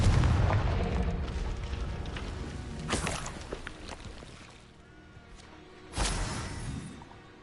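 Confringo explosive spell blasts in Hogwarts Legacy, two distinct booming bursts a few seconds apart over a rumbling background, loud and close with decaying tails.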